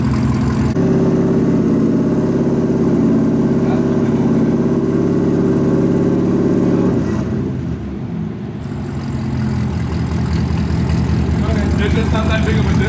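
Corvette C7 Z06 engine with a new loud aftermarket valved exhaust, a deep steady idle rumble close by that shifts in tone partway through, continuous and loud.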